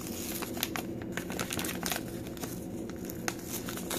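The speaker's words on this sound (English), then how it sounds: "I'm not open this." Close crinkling and tearing as a mail parcel is torn open by hand, with scattered sharp rips over a continuous rustle, no voices.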